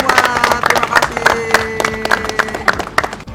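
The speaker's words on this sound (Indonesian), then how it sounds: "Oke, tepuk tangan buat kita semua." Studio audience applause at an Indonesian family-planning board-game simulation session, dense steady clapping from a group filling the moment, fairly close and loud with crowd noise mixed in.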